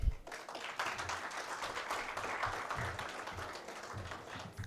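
Audience applause fills a conference room at a climate summit session, a steady broadband patter of many hands clapping throughout, moderately loud with no voices.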